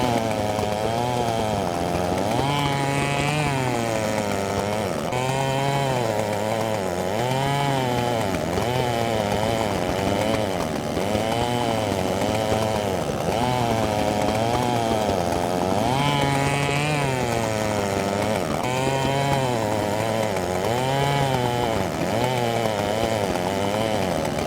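Engine drone of a mower in the video game Farming Simulator 2015, a steady harmonic hum that rises and falls in pitch as the machine drives, loud and continuous throughout with no talk.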